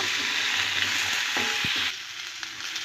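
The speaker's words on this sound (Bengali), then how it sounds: "এবারে আলু আর পটলটা দিয়ে দেব এটা একটু হালকা ভেজে নেব" Potato and pointed gourd fry with onion in hot oil, a steady loud sizzle with a few knocks of a utensil against the pan, easing slightly in the last second.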